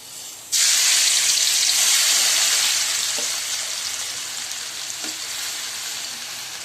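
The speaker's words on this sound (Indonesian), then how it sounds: "minyaknya udah panas nih teman-teman. Kita masukkan ininya yuk, bumbunya yang sudah aku blender tadi" Blended spice paste for seblak hits hot oil in a pan with a sudden loud sizzle that fades slowly into a steady hissing fry, with a couple of faint clinks from stirring.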